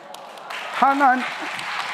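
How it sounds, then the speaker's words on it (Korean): A congregation at a church gathering breaks into clapping, a brief burst of hand claps heard under someone speaking loudly over it. "뭐 박수까지 치노?"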